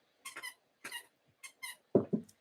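A dog squeaks a squeaky toy indoors in short, high, repeated squeaks that come in uneven pairs, ending with two lower, louder squeals.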